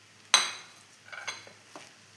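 Tomato rice stirred in a pan, a sharp metallic clink of the spoon against the pan followed by a few quieter scrapes and taps over faint background hiss.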